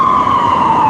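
Loud emergency siren from a passing ambulance, a steady sustained wail holding close and strong throughout, alone with no voices.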